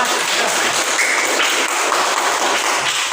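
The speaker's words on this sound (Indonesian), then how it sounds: "beri tepuk tangan untuk teman kalian yang berani menjawab" A classroom full of students applauds a classmate, a dense, steady wash of hand claps that holds at an even level throughout.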